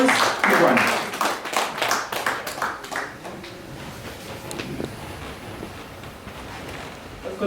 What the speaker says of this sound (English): In fact, a standing ovation for Joyce Kungwani.